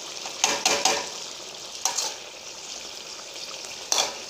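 Meat (gosht) frying in oil in a pot over low heat for a pumpkin-and-meat kaddu gosht, with a steady close sizzle broken by a few sharp stirring scrapes against the pot.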